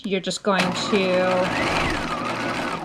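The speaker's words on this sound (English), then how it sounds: "We're going to take this back to the sewing machine." A sewing machine stitches a pleat on a swing coat, whirring steadily and close up beneath a person talking.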